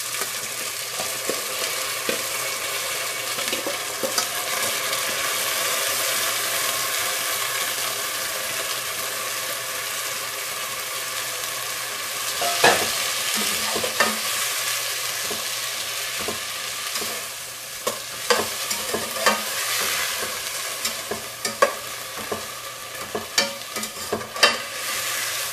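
Lentils sizzle and fry in a pan of softened onions as they are stirred in, a steady close hiss broken by sharp scraping clicks from the spoon, with no talking.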